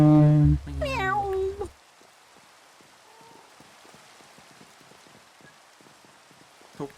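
Rain falls in the Minecraft video game as a faint, steady patter of scattered droplet ticks that continues alone after a short, loud voice at the start.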